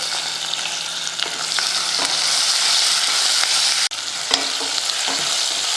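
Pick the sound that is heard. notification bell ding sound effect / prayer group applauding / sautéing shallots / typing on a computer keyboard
sautéing shallots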